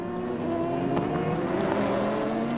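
Porsche and Aston Martin GT race cars battling at Bahrain, a sustained engine drone with rising pitch, moderately distant and steady, with no talk.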